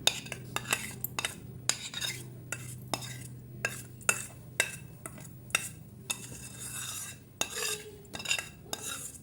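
Beetroot halwa scraped and tipped from a pan into a bowl, with a string of sharp metallic spoon clinks and scrapes against cookware over a low steady hum, close and fairly quiet.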